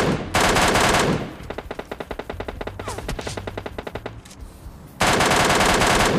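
Rapid automatic gunfire from an MK14 rifle in the PUBG Lite video game, with dense bursts at start and end and a stretch of quicker individual shots between them, loud and close.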